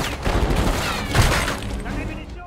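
Loud, close, sustained automatic gunfire from the video game Black Ops 6 is joined by a voice talking over the shooting and a brief sharper crash midway.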